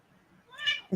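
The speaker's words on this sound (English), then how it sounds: "If I make eye contact with him long enough, I can usually make him meow." A cat gives a single short meow that rises out of near silence, close and clear, followed by a brief low thump at the very end.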